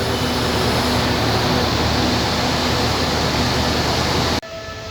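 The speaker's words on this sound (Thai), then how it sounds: "ขณะนี้กำลังจะจอดเทียบในชานชลาที่หก ของสถานรถไฟดอนเมืองเพื่อหยุด รับส่งผู้โดยสารนะครับผม" A special express train pulls into Don Mueang station with a loud, steady rumble and broad rolling roar that cuts off abruptly near the end.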